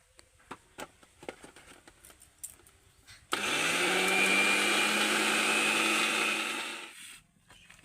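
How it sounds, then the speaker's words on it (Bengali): A grinder whirs loudly for several seconds, grinding dry mung dal with no water, after a run of scattered light taps and knocks; it winds down sharply at the end. "তো প্রথমে আমি ডালটা বেটে নেব তবে মনে রাখতে হবে ডালের মধ্যে কিন্তু জল দেয়া যাবে না জল ছাড়া বেটে নিতে হবে"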